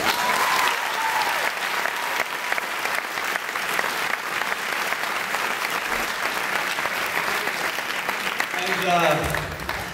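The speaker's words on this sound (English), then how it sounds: "So I really think they deserve a round of applause" A graduation audience gives a long round of applause for the school's cleaning staff, dense clapping filling the hall for about ten seconds, with a voice rising briefly as it fades near the end.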